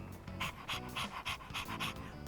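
A dog in Persona 3 Reload pants rapidly in an even rhythm of short breathy bursts, close and steady, with no talking over it.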